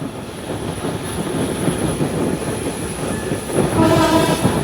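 The Intercity Ruposhi Bangla Express runs through the Shyampur area near Dhaka, heard as a continuous rumbling roar of wheels and carriages that swells a little louder toward the end, with no voices.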